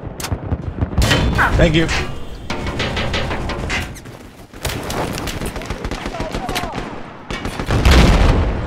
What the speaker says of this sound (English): Why is this guy firing when there's nothing to shoot at?